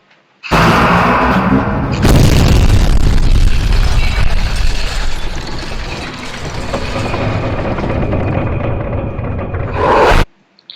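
A loud, sustained roaring blast erupts and rumbles on for several seconds before cutting off abruptly, dense and booming like a cartoon explosion.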